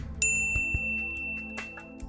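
A bright notification bell chimes once with a clean ringing tone that lingers and fades, followed by a few faint soft clicks in a quiet background.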